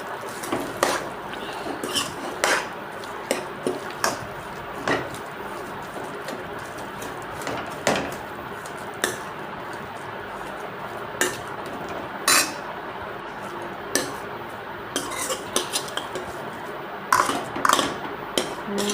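Spoon scraping and clinking in a bowl as boiled potatoes are mixed with spice masala, a steady run of sharp metallic taps over a soft background hiss.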